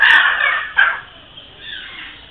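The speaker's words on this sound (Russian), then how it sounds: "Синие-синие попугаи." Blue parrots squawk in a Bali bird park, a few loud, harsh calls close by, one long rasping cry followed by a shorter squawk and a quieter trailing call.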